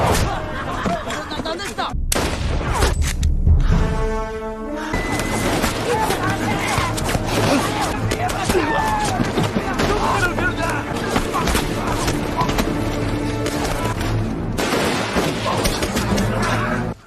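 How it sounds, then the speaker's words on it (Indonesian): Heavy gunfire and booming artillery fill a war film battle scene as independence fighters fire on gathered Japanese soldiers, with continuous volleys and blasts and a voice talking over them. "pasukan kemerdekaan pimpinan Kapten Lee Jang-ha menembaki tentara Jepang yang berkumpul"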